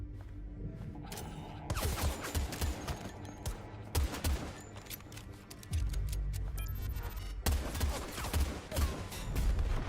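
Bursts of video game gunfire from a trailer, with rapid volleys and sharp shots layered over a steady rumbling background, loud and continuous throughout.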